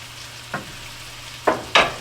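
Potatoes frying in a pan for a country boy stir fry, with a soft background sizzle and three brief scraping stirs, the last two close together.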